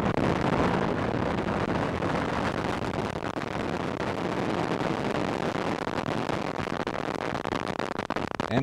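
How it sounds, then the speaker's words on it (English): Roar of an ILS Proton rocket lifting off from the Baikonur Cosmodrome in Kazakhstan with the Inmarsat I-5 F2 satellite aboard, a loud, steady, rumbling broadband blast sustained throughout. "we have liftoff of an ILS Proton from the Baikonur Cosmodrome in Kazakhstan with the Inmarsat I-5 F2 satellite on board"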